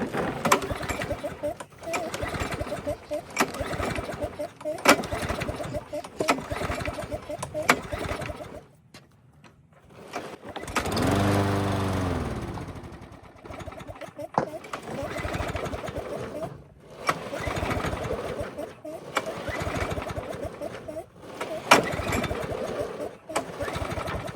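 A Yard Machines lawn mower with a dirty carburetor starts up and runs rough, its engine chugging in a steady, pulsing rhythm close by, with a brief lull partway through before the running resumes.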